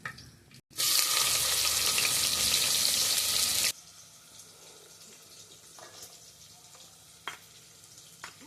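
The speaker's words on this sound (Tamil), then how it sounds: "ஒரு தாளிப்புக்கு நம்ம போட வேண்டியது சோம்பு, பட்டை, லவங்கம் போட்டுக்கிறேன்." Fennel seeds, cinnamon, cloves and onion dropped into hot oil for a tempering, a loud burst of sizzling for about three seconds that then settles into a faint simmer with occasional light clinks.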